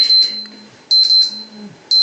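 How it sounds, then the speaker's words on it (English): An alarm beeps in rapid high-pitched bursts, three loud repeating pulses close by, with a low hum between them. "I think you guys heard the alarm go off"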